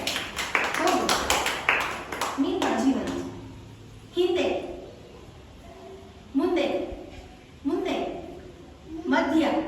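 Children clap together during a classroom activity on front, back and middle, with a quick burst of claps in the opening seconds before an adult voice talks and brief noises follow.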